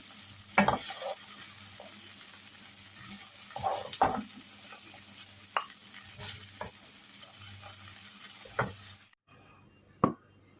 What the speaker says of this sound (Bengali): যেহেতু কর্ন এটাকে অবশ্যই একটু ভালো করে ভেজে নেব